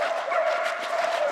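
A pack of Fauve de Bretagne hounds bays during a rabbit hunt, a continuous blended chorus of high voices from a distance, steady and moderately loud with no talk.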